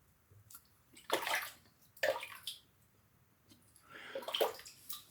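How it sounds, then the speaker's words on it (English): Water from a tap rinses shaving lather off hands in three splashing bursts, close and fairly loud, with quieter dripping between them and no talking. "Let's get the lather off my hands."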